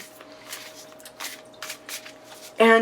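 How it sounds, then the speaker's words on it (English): Thick tarot deck overhand shuffled in soft, repeated papery bursts, near and fairly quiet, with a louder clatter at the end. "I can't riffle shuffle it. I have to overhand shuffle."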